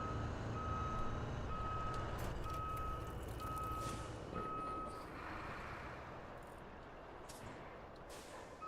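Reversing beeps from a truck in the road-building video game Roadcraft: a steady run of evenly spaced, loud electronic tones over a low engine rumble, stopping partway through as the engine noise carries on.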